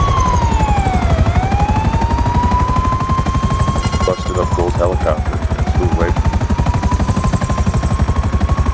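Police sirens wail and sweep up and down in the video game GTA 5, loud and continuous over a pounding helicopter rotor and bursts of gunfire.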